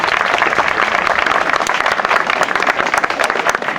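An audience at a quadrathlon event applauds an athlete, dense, loud continuous clapping from many people, fluctuating slightly in intensity.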